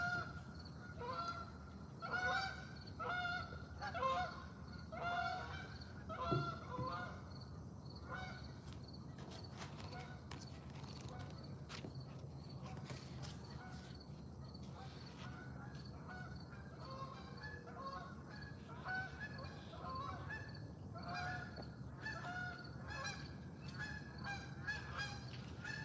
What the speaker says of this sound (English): Can you hear the geese? They're starting their journeys.